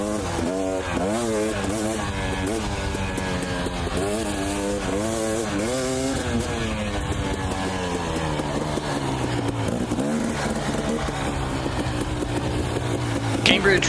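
Dirt bike engine idling and revving high in the Idaho mountains, sluggish throttle response, rising and falling harmonic tones that climb in several pulls then settle into a steady drone, with someone talking over it.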